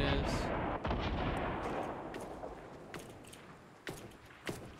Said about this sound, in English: His teammate's shooting at you.